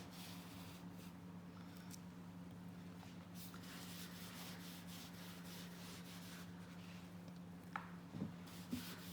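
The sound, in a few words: wiping colour onto a leather car seat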